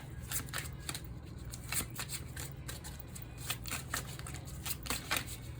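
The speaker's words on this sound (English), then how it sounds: "please don't mind the way that I do card shuffles" Repeated crisp riffling and snapping of a deck of cards being shuffled, close up, in several quick bursts over a low steady hum.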